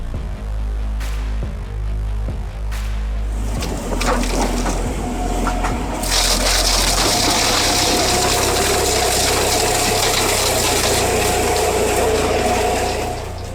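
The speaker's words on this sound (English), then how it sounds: "With its 600 horsepower cat engine and twin-shaft slow-speed shredding system, it tears through tangled roots and embedded rocks without breaking stride" A Komtech Crambo twin-shaft slow-speed shredder with a 600-horsepower Cat engine grinds a tree stump's tangled roots and embedded rocks: a low engine rumble with scattered knocks, then loud, continuous crushing and splintering that fills the rest.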